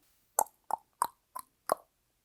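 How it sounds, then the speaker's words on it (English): Five short, hollow clicks or pops spaced about evenly apart, crisp and close against silence. "Apparently that's what I think a tick mark sound effect is."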